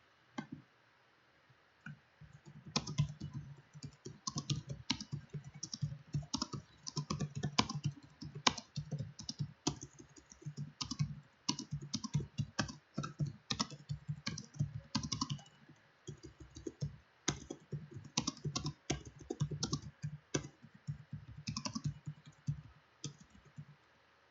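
Rapid typing on a computer keyboard: dense bursts of sharp key clicks with short pauses between runs, close and fairly quiet, continuing for the whole stretch with no speech.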